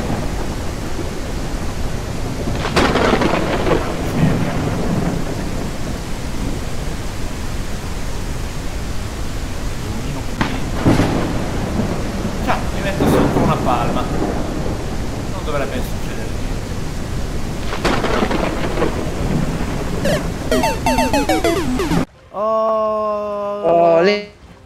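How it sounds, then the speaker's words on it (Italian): Thunderstorm with heavy rain lashing a beach in a video game: a steady roar of rain with repeated rumbling thunder surges, loud and close, before a short tonal musical passage at the end. "pessima idea stare in spiaggia con il temporale"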